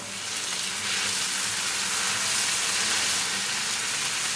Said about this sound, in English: Now I'm going to bring tomatoes, green chili, mix them well.